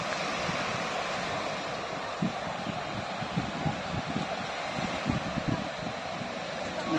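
Ocean waves roll onto an island beach at sunset, a steady broad wash of surf with soft irregular swells, fairly distant and continuous, mixed with light wind noise and no talking.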